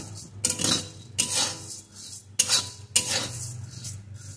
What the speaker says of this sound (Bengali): কয়েক সেকেন্ড পর আবার একটু নাড়িয়ে দেব।